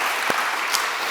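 Church congregation applauding during a Sunday worship service, a short burst of steady clapping filling the room at moderate level, with no talk over it.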